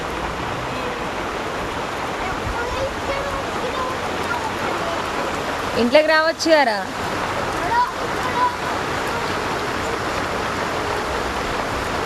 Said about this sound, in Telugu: వర్షం పడతలేదా ఆడ?